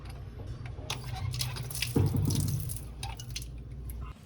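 Tap water runs in a faint, steady splashing hiss that swells briefly louder midway before easing off.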